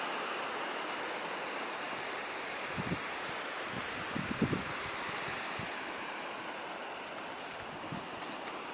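Steady broadband rushing of Ghora Mar Waterfall, constant and fairly loud throughout, with a few faint knocks in the middle and no talking.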